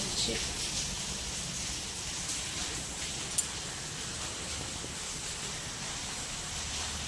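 Heavy monsoon rain pours outside a house, a steady, even hiss of downpour that holds at a moderate level throughout, with one brief sharp tick partway through.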